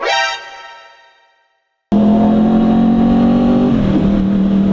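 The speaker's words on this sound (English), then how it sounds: "as I try not to get ran over by this garbage truck here," A garbage truck drives past at close range, its loud, steady engine roar starting abruptly after a fading tone and a short silence, then continuing with a slight dip in pitch near the end.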